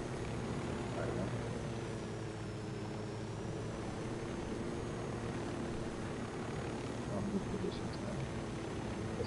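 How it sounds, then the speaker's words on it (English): A helicopter in the video game Ghost Recon Wildlands drones steadily with rotor and engine noise across the whole stretch. It stays constant and moderately loud under game ambience. "Got eyes on a Santa Blanca helicopter."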